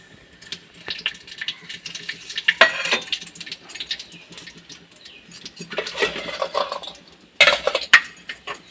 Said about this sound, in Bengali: কড়াইয়ে তেল দিয়েছি, জিরের ফোড়ন দিচ্ছি, জায়ফল দিচ্ছি